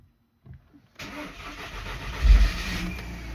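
An Audi, VW, Skoda or Seat car engine with a warm-start fault cranks after a click and catches, then settles into a steady, fairly loud running rumble with a brief rise in revs.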